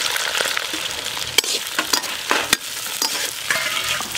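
Onions frying in hot oil with curry leaves, green chillies and cloves for a whole chicken curry, a bright crackling sizzle punctuated by sharp spoon scrapes and clanks against the pan, close and loud, no voices.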